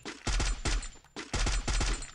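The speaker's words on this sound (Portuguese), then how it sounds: "pra mim o Mendy deu um tiro e matou o cara." Video game gunfire in bursts, two clusters of rapid shots about a second apart, loud and punchy with no voices over them.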